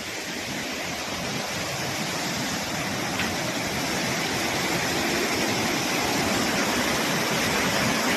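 Borhill waterfall in Meghalaya roars with a steady, dense rush of falling water, loud and close, unbroken for the whole stretch.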